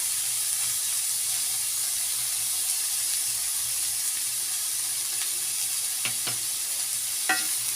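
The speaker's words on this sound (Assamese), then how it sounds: "আকৌ এবাৰ মই ভালদৰে লৰাই লৈছোঁ।" Banana flower curry is stirred in a pan on the stove. There is a constant soft hiss and sizzle, and a few light spoon clinks come near the end, with no voices.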